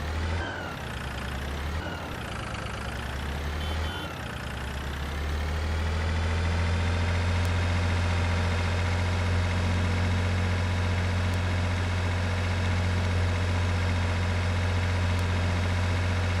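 The engine of a Krone BiG M 500 mower, rated around 75 horsepower, idles in Farming Simulator 22 with a steady, droning hum, rising briefly in a few revs before settling into a constant low idle.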